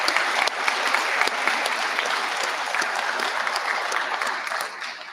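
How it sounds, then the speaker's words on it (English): A science and engineering fair audience gives volunteer judges a big round of applause, dense clapping from many people with a few sharp individual claps standing out, tapering slightly at the end. "I want to have a big round of applause to those volunteer judges"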